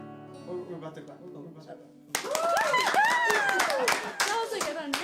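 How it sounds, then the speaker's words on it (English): A small group claps together for a few seconds following music, bursts of close applause mixed with cheering and excited voices. "We're about to clap."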